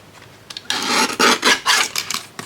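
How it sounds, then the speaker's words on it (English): A small handheld trimmer slicing a tiny bit off craft material, a brief close rasping cut of about two seconds with a few quick scraping strokes. "Let's just get my little trimmer"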